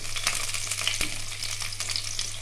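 Carrots and other vegetables for Bengali sukto fry in a pan, giving a steady, loud broadband sizzle with a few stirring scrapes, close and continuous with no talking.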